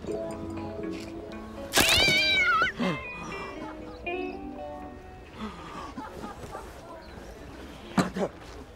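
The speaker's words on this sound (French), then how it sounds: "Le chat de la maison" A house cat meows loudly in a rising, strained cry after being sat on, followed by a shorter yowl, with a sitcom scene's voices and room noise continuing around it.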